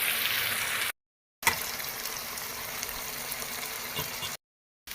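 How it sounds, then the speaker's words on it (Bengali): Chicken frying in a pan for a home-style chicken curry, giving a continuous loud hiss and bubbling sizzle that cuts out twice in brief gaps. "চিকেন এগুলো ফ্রাই করবার লাগিন দিলে ওগুলো 10 মিনিট ফ্রাই করে লইবা"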